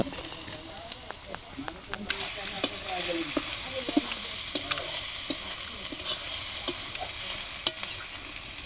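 Browned onions and crushed chopped garlic fry in a pan for a chicken curry, with a continuous sizzle that swells after a couple of seconds and a spatula clicking and scraping in an irregular rhythm.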